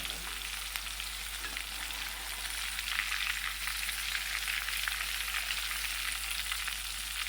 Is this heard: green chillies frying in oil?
yes